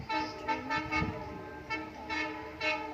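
The Bandhan Express, the Khulna to Kolkata international passenger train, sounds its horn as it arrives, giving a string of short, fairly faint toots in an uneven rhythm.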